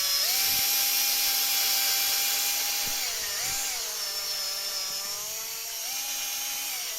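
Cordless drill boring a hole in a knife handle, a whining motor in repeated bursts that dip and rise in pitch as the bit bites, close and with no talk.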